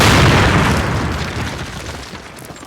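A loud, close explosion from the Call of Duty video game, a single deep boom that fills the sound at once and then rolls away into a long, slowly fading rumble.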